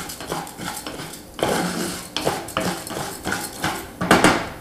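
Arborio rice sautéing in olive oil in a pan for risotto, giving a light crackling sizzle broken by a series of clinks and scrapes of a utensil against the pan, close and moderately loud.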